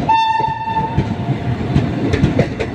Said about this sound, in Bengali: ট্রেন কিন্তু নৈহাটি রেলওয়ে স্টেশনে চলে এসছে